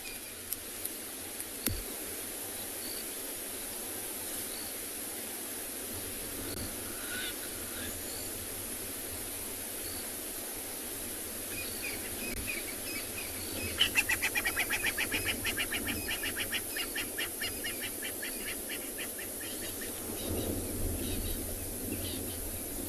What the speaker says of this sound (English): You can hear a lot of crested francolins calling in the background